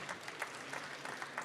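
A conference audience claps after a presentation, a light, faint patter of scattered hands that comes in soft irregular bursts.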